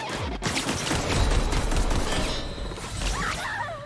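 Dense, continuous SMG fire in The Outer Worlds, a loud sustained rattle of rapid shots with no talking.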